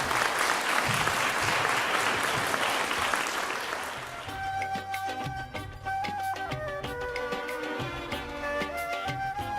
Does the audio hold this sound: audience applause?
yes